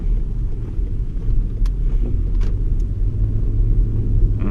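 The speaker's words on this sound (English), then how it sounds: "I already can hear the engine is so really smooth" The engine of a 2017 Toyota Kluger idles smoothly with a steady low rumble, heard up close and continuous throughout with no talk.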